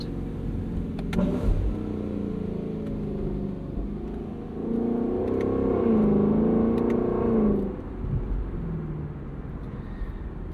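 A 2024 Lexus LC 500 with its 471 hp V8 drives with the top down, its engine a steady low drone that swells into a deeper rising bellow midway before settling again, with wind noise throughout.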